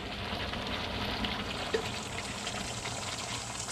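Water is poured into a cooking pot of Jamaican curried chicken, a steady hissing, splashing flow that continues evenly for several seconds with no talking.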